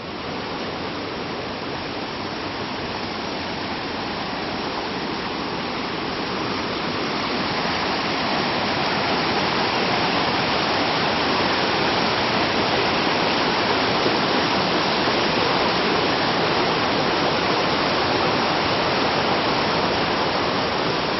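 Waterfall at Edessa, Greece, a loud steady roar of rushing water that holds constant throughout and swells slightly, no voices.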